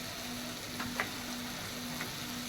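Masala gravy for katla fish curry fries in oil with a low steady sizzle, the oil separating from the spices, with a few soft stirring scrapes coming through.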